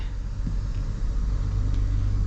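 Steady low engine rumble from a 2025 Toyota Sequoia Limited SUV while driving, a continuous muffled drone with road noise and no talking.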